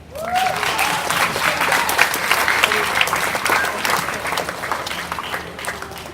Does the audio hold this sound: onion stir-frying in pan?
no